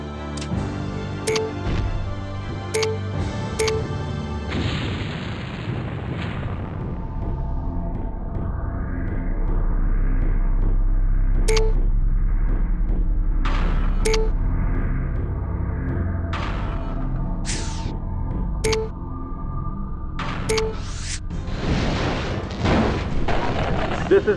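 Airstrike bombs exploding during a mission in MechCommander Gold, a run of booming blasts and deep rumbles mixed with sharp impacts and game effects, fairly loud throughout.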